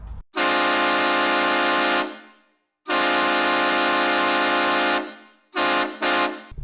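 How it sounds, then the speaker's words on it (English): A loud, brassy multi-tone train horn blasts twice in long sustained bursts, then gives two short quick toots, with no talking. "I want to get maybe a train horn installed on this thing."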